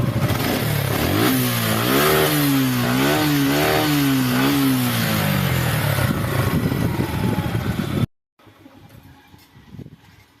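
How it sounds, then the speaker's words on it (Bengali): A Suzuki Gixxer monotone motorcycle engine runs close by, revving up and down in repeated rising and falling swells for several seconds before cutting off abruptly, leaving only quiet background noise. "গাড়িটির ইঞ্জিনের সাউন্ড যদি আপনাদের শোনায়, দেখুন।"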